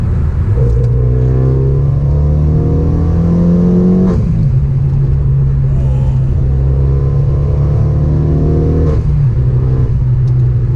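A turbocharged hot hatch accelerates hard through the gears on a wet road, its engine droning loudly and rising in pitch, dropping briefly at each gear change before climbing again, with a steady road rumble underneath.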